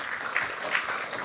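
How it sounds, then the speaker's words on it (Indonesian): Brief burst of studio audience applause on a television talk show, a short steady patter of clapping heard alone. "Terima kasih Bung Boyamin, kita berikan tepuk tangan."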